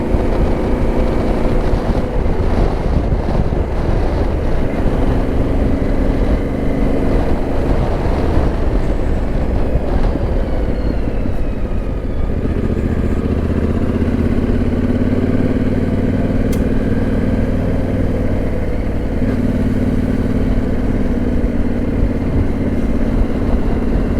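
A Yamaha T7 motorcycle is ridden along quiet Norfolk country lanes, its engine a steady loud drone close by with shifting revs and wind rush, alone with no voices.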